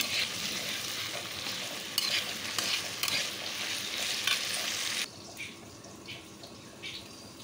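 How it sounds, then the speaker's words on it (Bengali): Chopped onion, potato, garlic paste and green chili frying in hot oil, a loud, close, steady sizzle with stirring scrapes, softening abruptly near the end as the hiss dies down; no talk. "তেলটা গরম হয়ে গেলে দিয়ে দিলাম পেঁয়াজ কুচি, তারপরে দিয়ে দিলাম আলু, তারপরে রসুন বাটা ও কাঁচা লঙ্কা। এখন একটু ভাজা ভাজা করে নেব।"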